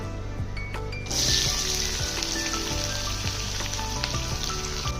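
Sliced onions dropped into a little hot oil with whole spices, bursting into a loud, continuous close sizzle that holds steady to the end, with no talk.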